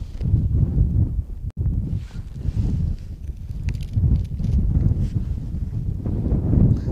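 Outdoor wind buffets a microphone in a steady low roar with gusts rising and falling throughout, during a water-freezing science experiment set up outside; no one speaks.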